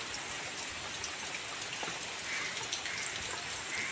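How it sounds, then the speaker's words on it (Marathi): Monsoon rain falls steadily outside a Konkan village home, a close, even patter of drops on surfaces with a soft trickling undertone. "पाऊस तर काय सतत चालूच असा"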